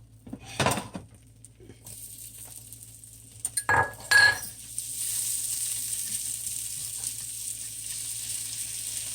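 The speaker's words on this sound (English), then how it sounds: "we're going to go ahead and get the peppers and onions done" Peppers and onions frying in a pan of steak juices, a soft steady sizzle that fills the second half, preceded by a few clinks and knocks of pan or utensils near the start.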